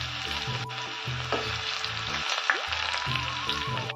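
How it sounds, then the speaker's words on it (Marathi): Cumin, mustard seeds, two dried chillies and garlic paste sizzle and crackle in hot oil for a Marathi ghol leafy vegetable dish, a close, steady frying hiss with occasional stirring scrapes. "यात टाकायचे आपण घेतलेले जिरं मोहरी. यात टाकायचे आपल्याला सुक्या 2 मिरच्या व यात टाकायची आपली 5 लसूणची पेस्ट."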